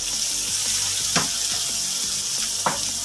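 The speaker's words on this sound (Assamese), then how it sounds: "সেইখিনি অলপ সময় মই কালাৰটো পিঁয়াজৰ চেঞ্জ হোৱালৈকে ফ্ৰাই কৰিম" Onion and garlic fry in a pan with a steady, dense sizzle, joined by two brief scraping stirs. The sound is moderately loud and close, with no voices.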